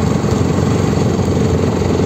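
A Bajaj Pulsar NS 125 motorcycle climbs slowly up a mountain road, its engine a steady, dense drone with a low mid-range chug, close and constant throughout without speech.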